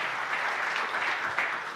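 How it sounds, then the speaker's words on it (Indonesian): A church congregation applauding for Jesus during a sermon, a dense, steady wash of many hands clapping heard alone, moderately loud and even for a brief moment. "Yang mau tepuk tangan yang meriah bagi Tuhan Yesus."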